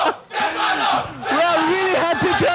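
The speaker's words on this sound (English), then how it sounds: "Everyone is absolutely crazy and we are all cheering for WCS, cheering for Stephano, and cheering for StarCraft 2." An esports crowd at a StarCraft 2 tournament, a WCS Europe Premier League semifinal, roars and cheers loudly and continuously, with shouting voices rising out of the din.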